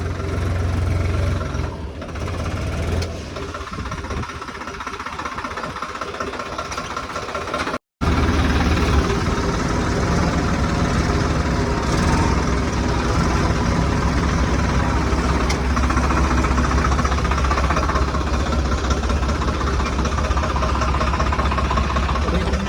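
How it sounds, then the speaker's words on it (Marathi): A small tractor that has got stuck, its engine running loud and steady as it reverses, a continuous close low rumble with one brief cut near the middle. "आता आपल्याला ट्रॅक्टर रिवर्स घेऊन जावं लागणार तिकडं."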